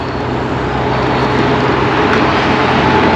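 Steady, continuous roar of traffic rushing past nearby, a broad unbroken wash of engine and tire noise with no voices.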